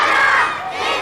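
Passion play extras, including children, raise a loud, brief collective shout of cheering, many voices joined in one sustained, rising and falling roar close by.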